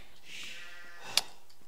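Sheep bleating in the early Dark Age of a real-time strategy game, heard as a faint bleat beneath steady game ambience, followed by a single short sharp click.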